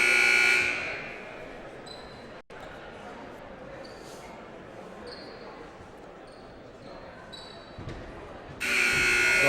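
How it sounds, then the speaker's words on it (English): At a high school basketball game, Nevada Union Miners against Del Campo Cougars, a loud electronic buzzer rings at the start and again at the end, with a murmuring gym crowd and ball bounces between. "So they're ringing the buzzer here."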